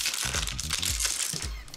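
Baking paper wrapped around chilled spice-cookie dough crinkles and crackles in a quick, close run of rustles lasting under two seconds, with no one speaking.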